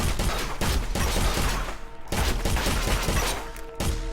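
Rapid bursts of video game gunfire crack in close succession, loud and near, with a short lull midway before another volley of shots resumes.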